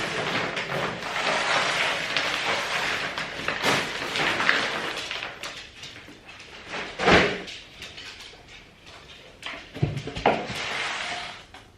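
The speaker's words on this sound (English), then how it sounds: "Here, I gotta shut this door, okay?" A house door being shut during home renovations: shuffling and handling noises, then a couple of short, fairly close thuds as it closes, with no talk.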